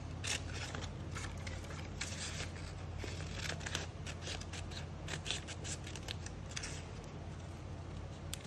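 Scissors cutting paper close up, a run of quick crisp snips and rustling scrapes, fairly quiet and with no talk.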